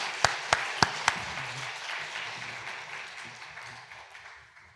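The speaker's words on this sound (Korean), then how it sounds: "우리 한번 박수로 환영하시면 좋겠습니다" A church congregation gives scattered applause to welcome a preacher at a Wednesday prayer meeting; four sharp nearby claps open over a soft, diffuse ripple of clapping that gradually fades away, with faint voices beneath.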